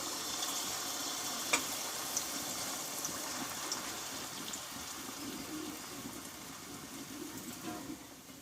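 Malpua batter frying in hot oil, a quiet, even bubbling sizzle with a few faint clicks of a utensil, steady throughout and without talk.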